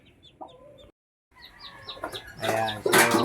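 Hens cluck in short repeated bursts close by, with small chirps from newly hatched chicks in between, growing busier and louder toward the end.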